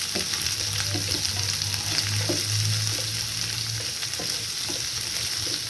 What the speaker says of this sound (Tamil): அதை வச்சுட்டு நம்ம வதக்கலாம்.